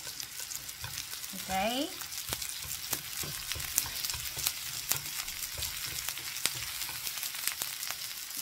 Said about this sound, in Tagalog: Ganito ang gisa.